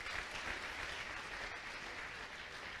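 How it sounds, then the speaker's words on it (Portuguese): A church congregation at a worship service applauds together, steady clapping across the whole stretch, fairly distant and soft, with no talking. "Vamos aplaudir ao Senhor pela vida da Fátima."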